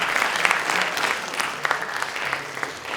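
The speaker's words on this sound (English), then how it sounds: "A round of applause for the Chris C. speaks." Conference audience applauding a speaker at an intern day event in Texas, a steady wash of dense clapping that stays fairly even throughout with scattered sharper claps.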